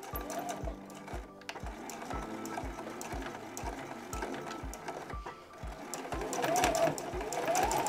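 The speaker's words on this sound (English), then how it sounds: "I am going to sew with about a 1/4 inch seam allowance" A sewing machine stitching a zipper with a zipper foot on a small zippered bag, its needle thumping in a fast, steady rhythm at close range while someone talks over it.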